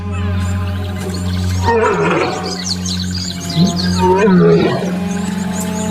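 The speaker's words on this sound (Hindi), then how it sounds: "उसकी दहाड़ घाटियों में गूंजती है और उसके झुंड को बताती है कि वो कहां है।" An old lion in Hluhluwe–iMfolozi, South Africa, lets out loud, deep roars that swell and fade in a couple of heavy bursts, with small birds chirping faintly in the background.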